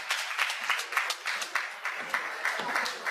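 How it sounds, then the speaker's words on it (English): Audience applause at a live stage show, a steady dense wash of clapping from a crowd that carries on throughout without letup. "Give another round of applause."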